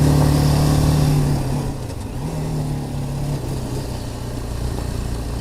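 A 2018 BMW G310GS motorcycle ridden off-road in a race setting, its single-cylinder engine droning steadily and loudly with a slight drop in revs partway, wind rush over it, no talk.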